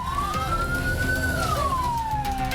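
An ambulance siren wails on a road blocked by trucks during flooding, one long rising and falling tone sounding close and loud over a steady traffic rumble.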